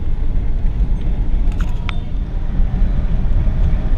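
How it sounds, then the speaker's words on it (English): A 1959 Chevrolet Bel Air's engine drones steadily with road rumble while driving, a couple of faint metallic clinks standing out briefly. "Now we're cruising along in a 60-year-old car."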